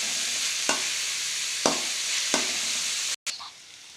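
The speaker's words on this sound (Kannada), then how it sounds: "ಇದು ಹೈ ಫ್ಲೇಮಲ್ಲಿ ಬಾಡಿಸ್ಕೊಬೇಕು ಸ್ವಲ್ಪ." Shredded cabbage stir-fries over a high flame for egg fried rice, a steady loud sizzle broken by a few scraping stirs of the spatula and one brief cut-off near the end, with no talking.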